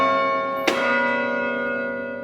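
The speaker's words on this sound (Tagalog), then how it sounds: "Gusto ko marinig yung tunog ng kampana eh." A single loud church bell strike rings out over an already humming bell, its bright metallic tone sustaining and slowly fading.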